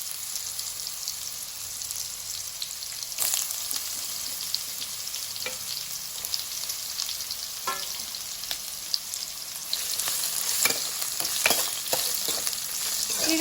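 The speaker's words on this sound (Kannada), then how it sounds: "ಇದಕ್ಕೆ ಜಜ್ಜಿಟ್ಕೊಂಡಿರುವಂತಹ ಮೂಲಂಗಿ ಹೋಳುಗಳನ್ನು ಸೇರಿಸ್ಕೊಳ್ತೇನೆ." Crushed radish pieces frying in oil with cumin and curry leaves, a steady close crackling sizzle with intermittent spoon scrapes and light clinks, growing busier toward the end, with no talk.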